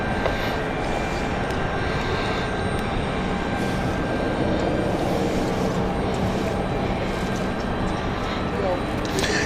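A steady, broad engine roar from aircraft at London City Airport holds loud and unbroken throughout, with no clear gaps or distinct events standing out.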